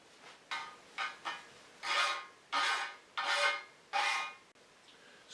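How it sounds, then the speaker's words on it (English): A hand file rasps over the rough metal edges of a part from a Grizzly G0500 jointer in about seven distinct strokes. The early ones are short and the later ones longer and louder, all close up with no talking. "I'm going to go ahead and take a file and smooth them up anyway"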